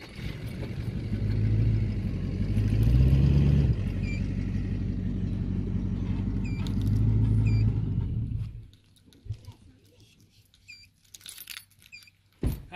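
A car engine rumbles close by for several seconds as the car pulls away from a caravan, then cuts out abruptly, leaving near-silence with a few faint clicks.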